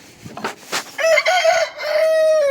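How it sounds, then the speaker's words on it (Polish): A rooster crows once nearby, a loud drawn-out call following a few short clucks. "co piejesz kogucik"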